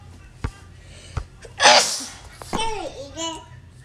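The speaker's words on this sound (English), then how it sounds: "Hold on, I got to sneeze." A single loud sneeze close by, preceded by a couple of sharp clicks and followed by a voice talking briefly.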